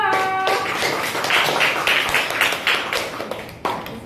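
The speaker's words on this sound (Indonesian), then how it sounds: "kasih tepuk tangan untuk kelompok 2" A classroom of students applauds for a presenting group, a burst of scattered hand claps that swells and then thins out into a few final claps after a brief voice at the start.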